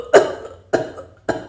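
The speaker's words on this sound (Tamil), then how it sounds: "இப்படி தொண்டையிலேருந்து நம்ம இருமல் வரும்" A person demonstrates a dry cough from the throat, with three sharp, close coughs spaced about half a second apart and short quiet gaps between them.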